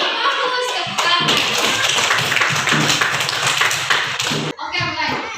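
Schoolchildren clapping in a classroom, a dense burst of many small hands that lasts several seconds, with kids' voices and a teacher's voice heard around it.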